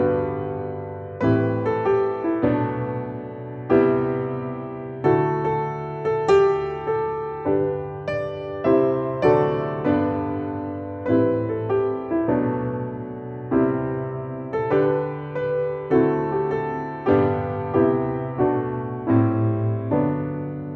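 A reharmonized A section of "Go Tell It on the Mountain" played alone on a piano-like keyboard with diatonic chord substitutions, a steady procession of sustained chords and melody notes at a moderate, even pace.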